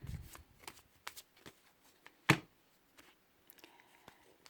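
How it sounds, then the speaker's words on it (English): Tarot cards being shuffled by hand: soft, scattered riffles and flicks with one sharper snap in the middle, quiet and close in a still room. "I will take some cards for you from the Wisdom of the Hidden Realms"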